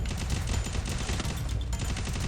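Rapid bursts of gunfire in the Free Fire battle royale mobile game, loud and dense with overlapping shots across the whole stretch and no talking.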